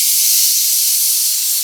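A pressure cooker whistle releases steam while sambar cooks, giving a loud, continuous high-pitched hiss that stays steady across the whole moment.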